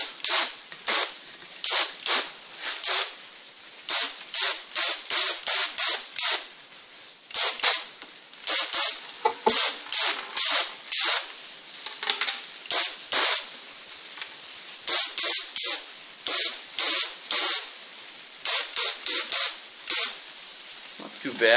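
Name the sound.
compressor spray gun spraying tinted varnish on a maple fiddle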